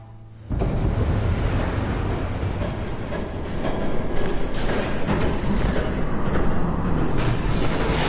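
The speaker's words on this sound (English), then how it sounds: "There's a train coming. Take cover." A train passes in a video game, its heavy, loud rumble surging in abruptly after half a second and rolling on continuously with rattling bursts of clatter.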